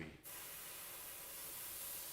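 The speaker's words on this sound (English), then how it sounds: "Let's spray the spots that" Airbrush spraying paint onto a model Japanese tank, a steady soft hiss that starts abruptly and continues evenly, close but quiet, with no talking.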